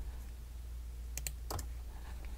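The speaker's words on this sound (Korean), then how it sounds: "선택한 거를 백스페이스 누르면 지울 수 있어요." A few quick clicks on a computer keyboard, faint and close, as the backspace key is pressed over a low steady hum.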